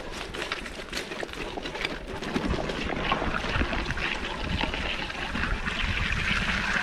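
A Revolt E+ Pro XR electric bike rides through water about six inches deep, giving a steady broadband rush and splash of churned water that holds close and loud throughout, growing a little stronger midway, with no voices.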